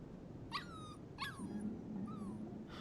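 A puppy in the video game Life Is Strange 2 gives a few short, high whimpers and yips, spaced apart and fairly soft over a low background hum.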